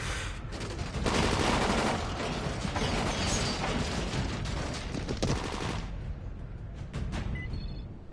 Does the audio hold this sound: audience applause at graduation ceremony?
no